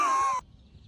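A single loud, close crow-like caw rings out for under half a second, then cuts off abruptly into quiet room noise.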